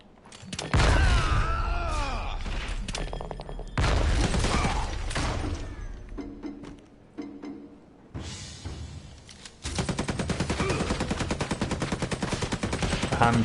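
Rapid gunfire bursts and booming shots from the video game Marvel Heroes Omega, in loud clustered volleys with brief pauses, ending in a sustained automatic-fire stretch.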